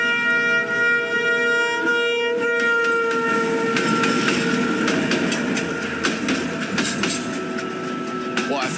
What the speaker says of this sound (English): This train is coming. It is quick.